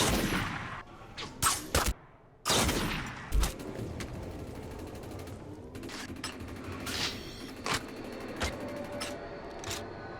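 Sniper exchange in a video game, with sharp gunshot cracks and short bursts of return fire scattered across the stretch, some loud and close, others fainter, over a low steady background.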